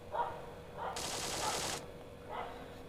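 Rapid automatic fire from a rifle fitted with a compensator in a shooter game, one sustained burst in the middle, flanked by short fainter shots, with someone talking quietly.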